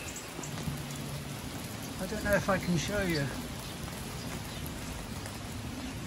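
Steady rain falls on an English country garden, a continuous near hiss of drops on surfaces. Someone speaks briefly over it midway.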